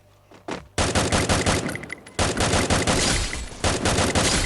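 Rapid automatic gunfire rattles loudly in a video game match, coming in long sustained bursts separated by brief pauses, with an earlier single shot or two leading in.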